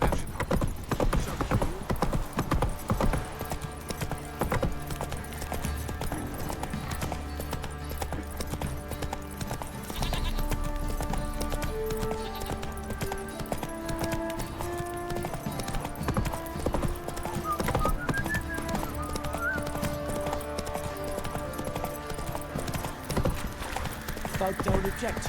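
Roach the horse's hooves clip-clop steadily in The Witcher 3 video game, a continuous rhythmic trot under game music and character dialogue, with a brief whinny.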